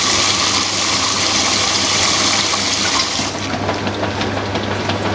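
Water rushes steadily into Whirlpool and Maytag washing machines filling at the start of a wash, a loud continuous hiss and gush over a low motor hum that eases slightly toward the end.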